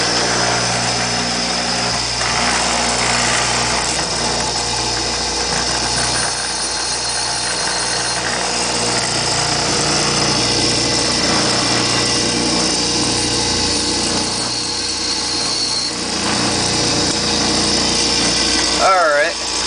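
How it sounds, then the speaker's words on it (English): A grinder sharpens a blade to a fine edge for trimming plastic while modding a yoyo, giving off a steady, loud, continuous whine that holds without a break. "I'm just gonna grind it and make sure it has a real sharp edge"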